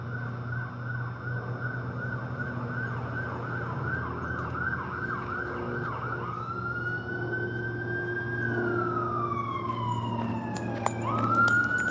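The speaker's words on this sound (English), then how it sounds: "ambulance passing by" An ambulance siren wails loudly nearby, its pitch dropping as the vehicle passes along a city street, over steady traffic rumble.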